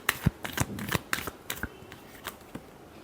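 Tarot cards are shuffled by hand in a series of crisp, close riffling slaps and flutters, irregular and fairly quiet, with no talking.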